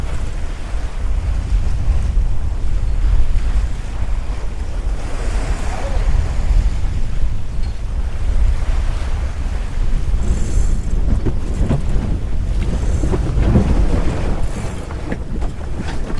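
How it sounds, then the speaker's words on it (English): A sailboat tacks on the open Atlantic, with constant rushing wind and breaking waves against the hull; a low, steady roar fills the scene, and faint voices come and go. "Tacking."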